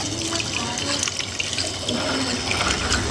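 Water gushes fast from a tap into a filling tank, a steady broadband rush that stays loud and even throughout.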